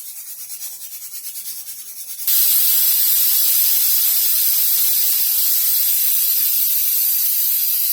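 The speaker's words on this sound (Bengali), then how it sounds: "কুকারে বসিয়ে দিয়েছি, এবার একটা সিটি মেরে নেব।" A pressure cooker cooking rajma lets off a loud, steady steam hiss, starting faintly with a pulsing whistle and then bursting into a strong continuous rush about two seconds in that holds to the end, with no talking.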